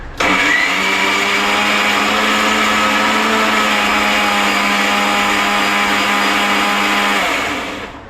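Mixer grinder blending green masala paste for Konkani anda (egg) curry, a loud steady whir with a continuous motor drone that holds for about seven seconds before winding down, no voices.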